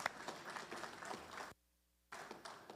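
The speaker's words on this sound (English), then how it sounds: "they deserve a clap for that" Audience at a Prince Hall Masonic lodge service clapping together in steady, moderate applause that suddenly cuts to silence for half a second and then resumes.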